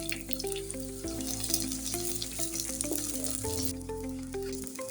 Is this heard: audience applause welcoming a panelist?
no